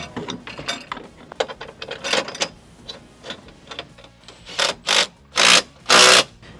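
A hand ratchet clicks in quick bursts while tightening a bolt on a Ford F-150 air dam, the sharp clicking strokes growing louder and more spaced toward the end, with no talk.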